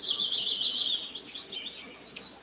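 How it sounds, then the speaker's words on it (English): Birds chirp and trill continuously at a moderate distance, high thin calls layered over a quiet background. "Can you hear the birds?"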